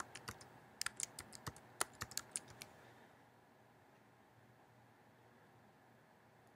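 Quick, close clicks of typing on a computer keyboard come in an irregular burst and then stop, leaving quiet room tone.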